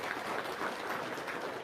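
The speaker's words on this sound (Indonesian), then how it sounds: "tepuk tangan dong" An audience claps briefly at a talk, a soft, short patter of applause heard from some distance.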